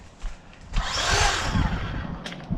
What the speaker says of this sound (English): So I'm going to use the hedge trimmer and show you what I'm going to trim.